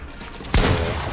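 Single gunshot in Fortnite, a sharp loud crack with a booming low tail, arriving after a brief stretch of quieter game background.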